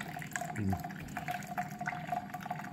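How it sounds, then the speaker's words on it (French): Water trickles and splashes steadily into the reservoir of a faulty Keurig coffee maker, filling it close by as part of a descaling process, with no talking. "Vous allez rajouter de l'eau, un réservoir plein d'eau."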